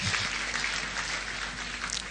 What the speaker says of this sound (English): another round of applause for the Nigerian child today.